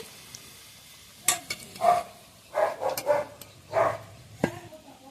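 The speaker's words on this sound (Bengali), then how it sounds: "সব কটা ভেজে নিই" Samosas frying in oil make a soft background sizzle broken by several sharp clinks and a few louder bursts of spattering as pieces are turned, with faint noise in between.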